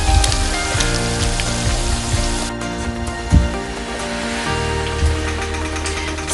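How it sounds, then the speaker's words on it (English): Food coated in egg mixture fries in a pan, a steady close crackling sizzle with bubbling pops running throughout and no voices over it. "So we'll allow these to continue frying for a few more minutes until they are ready"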